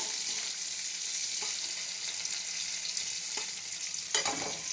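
Crushed garlic fries in a pan with a constant soft sizzle and a few light pops and scrapes, ending in a sharper clatter, with no voices.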